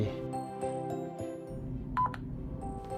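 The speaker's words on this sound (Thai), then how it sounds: "หลังจากนั้นจะได้ยินเสียงตื๊ดสั้นหนึ่งที" A single short electronic beep sounds from a PATLITE alert device, following a few faint tonal blips, clear but not loud.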